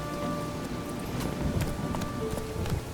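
Roach the horse galloping in The Witcher 3, a steady rapid clip-clop of hooves over a dense, noisy game soundscape, continuous and fairly loud.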